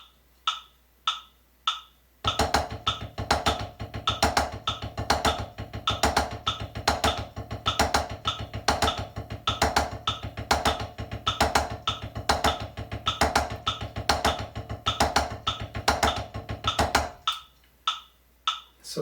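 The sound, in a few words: paradiddles played on a drum kit at 100 BPM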